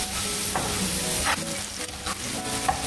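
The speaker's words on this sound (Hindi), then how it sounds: "मशरूम्स को हमने बस इतना पकाना है कि इसका कलर जो है वो चेंज हो जाए।" Mushrooms seasoned with salt, black pepper and crushed red chili sizzle steadily in a pan, a close, continuous frying hiss with occasional stirring scrapes.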